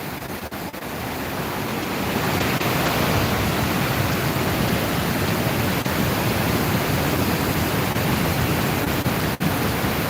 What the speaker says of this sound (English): Enjoy the waterfall for a minute here.